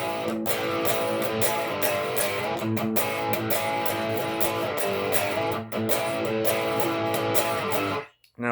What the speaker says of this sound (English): So after that, we go into the main riff, which is what I'll play in the intro.